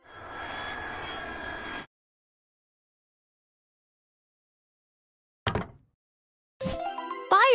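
Toy fighter jet effect: a steady whooshing engine roar with a faint high whine, close and moderately loud for about two seconds, then silence and two short electronic chirps.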